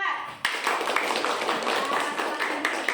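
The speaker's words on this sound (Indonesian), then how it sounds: "kita kasih tepuk tangan untuk kelompok 4" Classroom students clap for a group after its presentation, a burst of many hands starting abruptly and continuing steadily, with voices underneath.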